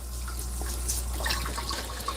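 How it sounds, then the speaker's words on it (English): Kitchen water tap running low at a barely-there drizzle, a steady soft hiss with light splashes and drips over a low background hum, no voices. "you turn the water on low. Barely a drizzle."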